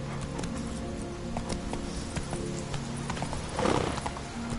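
A horse trots off after its rider urges it on: steady clip-clop hoofbeats at close range, with a short louder burst near the end that may be a snort or whinny.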